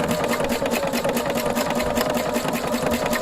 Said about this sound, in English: stabilizer is underneath, and I'm going to stitch